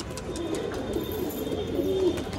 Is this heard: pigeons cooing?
yes